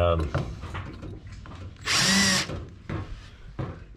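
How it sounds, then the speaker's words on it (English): A brief whirring burst of a power drill removing screws on an MCI bus, about half a second long, amid quieter handling knocks and faint voice sounds. "I can hopefully get the drill in there a little bit better"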